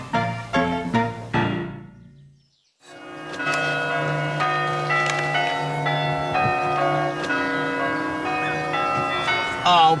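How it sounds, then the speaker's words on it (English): Church bells ring in a sustained, dense peal with overlapping tones; a brief silence breaks it early on, then the ringing swells and continues loud to the end. "that's all we need, church bleeding bells"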